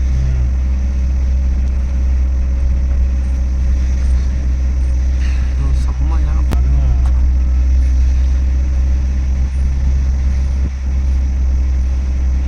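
Car engine droning loudly and steadily at close range on a night drive through forest between Bandipur and Mudumalai, a heavy low rumble throughout with no speech.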